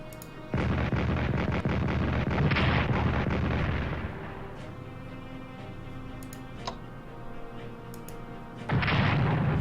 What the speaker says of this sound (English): Let's start with the artillery.